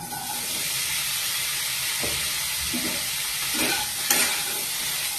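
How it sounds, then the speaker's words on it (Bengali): Boiled potato, fig and chickpeas sizzle in oil in a wok, with a continuous frying hiss and several scraping stirs of a spatula, close and alone. "এটাকে একটু কড়াইতে তেল দিয়ে নিয়েছি, একটু নেড়ে ছেড়ে ভেজে নিচ্ছি।"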